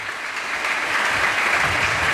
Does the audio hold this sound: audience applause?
yes